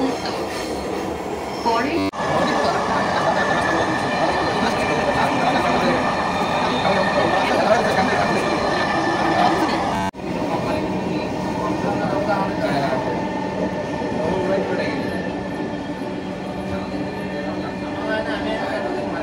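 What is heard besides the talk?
Dhaka metro rail train running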